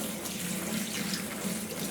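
Water from an ultrasonic jewellery cleaner pours steadily into a sink in a continuous, close, fairly loud splashing stream, with no voices.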